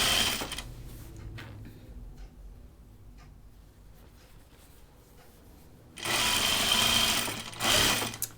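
A sewing machine stitches the hem of a tunic in two close, loud, rapid runs of needle chatter, separated by a quieter stretch of handling and faint shuffling.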